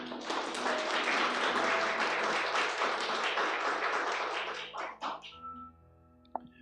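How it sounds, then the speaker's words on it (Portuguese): A church congregation applauds during a pastor's sermon, a dense steady wash of clapping that fades out near the end, leaving a brief thump and quiet. "Pode aplaudir o Senhor."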